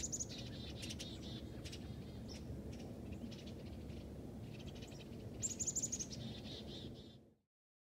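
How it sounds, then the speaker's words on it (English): A flock of roughly ten to fifteen eastern bluebirds mixed with goldfinches chatters in winter at a lakeside, with high, quick chirps scattered over a steady low rumble of wind or traffic. "Got a nice flock of bluebirds here, eastern bluebirds, and some goldfinches."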